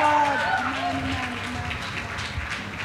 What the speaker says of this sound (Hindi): आइए हम जोरदार अपने पैरों पर खड़े होकर जोरदार तालियों के साथ उनका स्वागत करें।